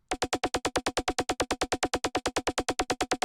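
A layered synthesizer patch plays a fast, evenly pulsing tone, about eight bright rhythmic stabs per second, clean and alone.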